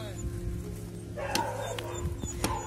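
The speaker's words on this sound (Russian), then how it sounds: "Я возьму самого крикливого щенка и ручного, вот этот, чтобы он не убежал." A puppy yelps and whimpers in short, sharp cries outdoors during an attempt to catch its stray mother, heard amid people talking and a constant low hum.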